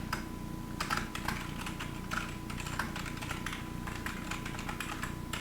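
Quiet, steady tapping on a computer keyboard while code is typed, a rapid run of soft key clicks heard up close over a faint hum.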